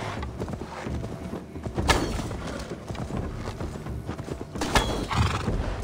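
Horse hooves clop and a horse neighs in Assassin's Creed Valhalla, mixed with scattered clanks and thuds at moderate loudness, without speech.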